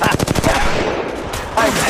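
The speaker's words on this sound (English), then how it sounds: "They're shooting at me!" Loud, close automatic gunfire in the mobile battle royale game Apex Legends Mobile, a fast burst of shots followed by a pause and a second short volley, with a voice faintly under the action.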